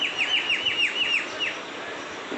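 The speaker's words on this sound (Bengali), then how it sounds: "পাখির কিচিমিচি" Small birds chirp in a quick run of bright, repeated descending tweets near a home balcony on a cool early morning, close and lively, then fade to a softer background twitter.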